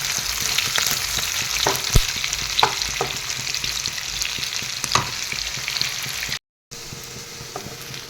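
Onions fry in a pan for chicken curry with a continuous close sizzle, punctuated by spatula clicks and stirring scrapes. The sound cuts out briefly near the end and no voice is heard.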